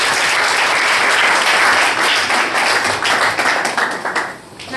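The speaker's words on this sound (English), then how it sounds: "I want every one of us here to give a round of applause." Loud, dense applause from a seated audience at a scholarship ceremony, many hands clapping continuously before tapering off slightly at the end.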